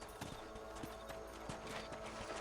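Horse hooves clip-clop in a steady walking rhythm within the Red Dead Redemption video game, close and fairly loud over a constant outdoor ambience, with no talking.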